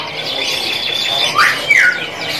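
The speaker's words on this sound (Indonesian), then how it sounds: "Inilah penampakannya dari sebagian stok kenari yang jenis loper gacoran." Kenari loper gacoran canaries in a bird shop chirp and trill steadily, with a couple of brighter rising whistles standing out, close and fairly loud, without talk.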